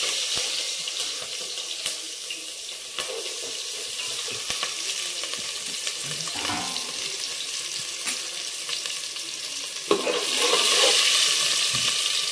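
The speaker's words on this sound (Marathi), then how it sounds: "तर पहिले आम्ही कांद्याची फोडणी घालतो" Chopped onion for a tempering hits hot oil in a pan and fries with a continuous loud hiss, occasional stirring clatter and a sharper burst of sizzling near the end.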